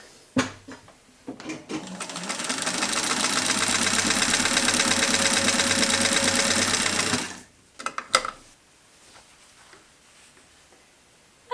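A vintage 1950s–60s Sewmor 606 sewing machine on a test run stitches in one sustained, fast, even whirring burst of about five seconds, close by, framed by brief handling clicks and knocks before and after.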